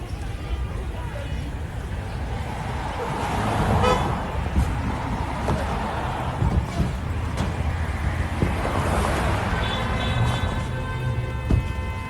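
Car horns toot in stopped traffic amid a steady roar of engines and crowd babble, several short honks scattered over the noisy street scene.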